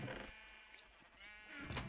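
Sheep on a Minecraft sheep farm bleat in short nasal calls, two or three overlapping in quick succession, fairly close and alone without talk.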